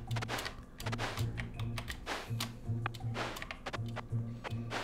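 Rapid computer keyboard typing clicks, close and fairly loud, in irregular bursts over a steady low hum, recorded during a session of the game Vagante; no talk.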